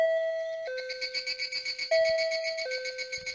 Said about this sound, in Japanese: 文子ちゃんは仕方なく呼び鈴を押した。